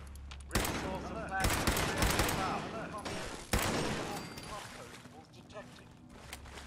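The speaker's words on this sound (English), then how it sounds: "Might want to start using other weapons, this pipe pistol." Pipe pistol gunfire in Fallout 76 cracks out in several loud, sharp bursts over a busy game soundscape, with gaps between the volleys.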